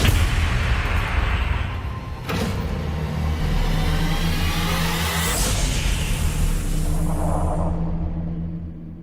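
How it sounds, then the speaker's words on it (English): Explosions and heavy rumbling in a video game, a loud sustained roar with sharp blasts near the start and middle, fading out at the end. "We sure cause a lot of explosions."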